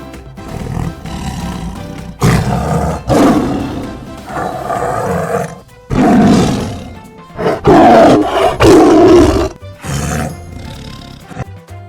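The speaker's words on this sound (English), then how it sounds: "tiger," A tiger roars loudly and repeatedly in deep, rough bursts separated by short gaps, heard close and alone without any talking.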